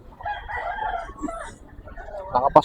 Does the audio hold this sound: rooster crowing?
yes